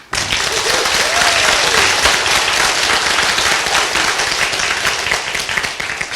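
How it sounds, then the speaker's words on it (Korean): Dense, sustained applause from an audience thanking the top sponsors, loud and uninterrupted throughout with no voices on top. "우리 상위 스폰서님들에게 기다려준 그 인내심에 감사의 박수"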